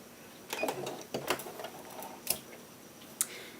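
A sewing machine sews a stay stitch along the edge of a pillowcase-style dress, giving short mechanical bursts of clattering stitching with sharp clicks between runs, close by.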